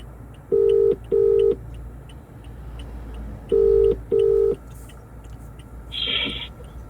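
Mobile phone ringback tone during an outgoing call, two pairs of clear, steady beeps separated by a pause, followed by a short higher tone, close and loud over a low background hum.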